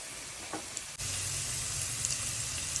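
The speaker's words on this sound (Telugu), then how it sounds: "తర్వాత అల్లం, వెల్లుల్లి, కొబ్బరి పేస్ట్ అండి. ఇవన్నీ బాగా వేగాలండి." Ginger, garlic and coconut paste frying in a pan, a steady close sizzle that swells after a brief dip and carries on evenly, with no talk.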